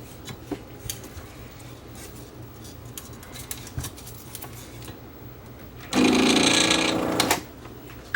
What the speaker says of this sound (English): that horrible sound that the motor is making